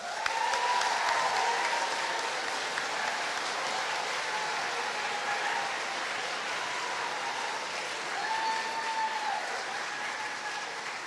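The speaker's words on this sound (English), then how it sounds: "give a big round of applause to the person sitting next to you" A graduation ceremony audience at Bath Spa University's School of Education applauds steadily, a broad continuous wash of clapping with faint cheers, filling the hall without pause.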